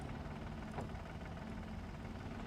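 A 1.2 liter car engine in BeamNG Drive runs at a steady, quiet idle, a low continuous hum and rumble with no clear change in pitch.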